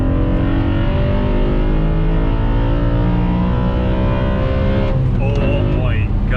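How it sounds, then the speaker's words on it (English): A loud BMW E92 M3 V8 with a carbon plenum and intake accelerates hard on a wet road, its engine note climbing steadily in pitch, with a brief exclaiming voice near the end. "That's one sick sounding street car."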